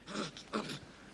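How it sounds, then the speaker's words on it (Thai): Two short bursts of breathy, panting laughter from a chimpanzee being tickled, close and fairly quiet. "นี่คือเสียงหัวเราะของปังคุงนะครับ"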